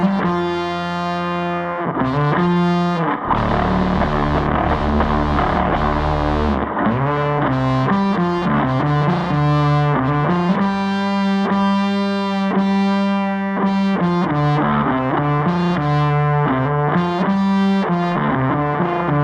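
Loud, saturated electric guitar played through a pedalboard with Black Emperor fuzz, chorus and echo, thick distorted chords and sustained notes ringing alone with no talk.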